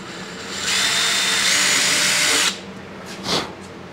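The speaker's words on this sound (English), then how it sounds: "I'll drill out the hole for the locking pin." An electric drill whirs steadily for about two seconds drilling a locking-pin hole in a VW Westfalia bus panel, then cuts off, followed by a brief scrape or short burst of noise.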